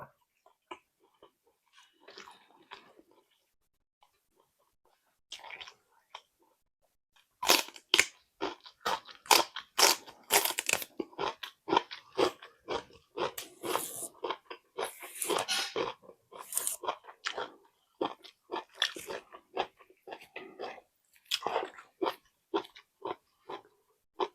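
Someone eats a Thai khantoke meal of several dishes, including fried fish cakes. Close crunchy chewing and biting comes in quick irregular bursts, sparse at first and then dense and loud.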